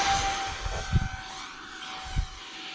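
An E-flite Habu 50mm electric ducted fan RC jet flies overhead, a thin high whine with a steady tone and airy rush, moderately loud, with two dull thumps of handling noise.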